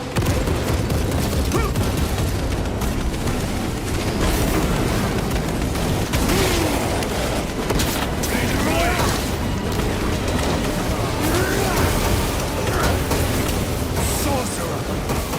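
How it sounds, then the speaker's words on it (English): In Warhammer 40,000: Space Marine 2, frag grenades and heavy gunfire make a loud, dense, continuous din of booms and bursts, mixed with voices shouting in the fight. "Deploying frag grenade!"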